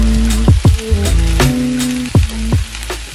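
Potatoes tipped into a hot frying pan already holding chopped black olives, sizzling steadily with several sharp clattering knocks and scrapes of food and utensil against the pan, close and loud, for a Portuguese salt cod dish.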